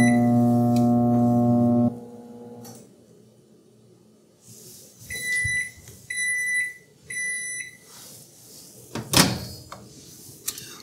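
A Toshiba ML2-EC air fryer microwave reheats a cheddar and American cheese dish with a steady humming drone for about two seconds. It then stops, a few short electronic beeps follow, and a door clunks shut near the end.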